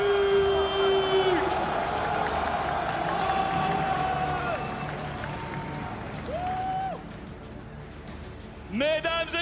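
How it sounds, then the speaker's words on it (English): An esports arena crowd at an MSI 2018 semifinal in the Zénith applauds and cheers loudly, a sustained wash of clapping that slowly fades. An announcer's amplified voice speaks over it in French. "une dernière salle d'applaudissements pour le Fnatic"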